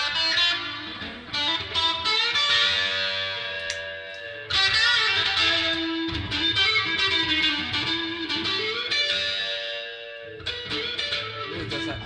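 Electric guitar with a nasal, effects-coloured tone, a Fender Mexico Deluxe Telecaster or Jazzmaster, plays a steady melodic line at close range with sustained chords and single notes for about twelve seconds, no talking.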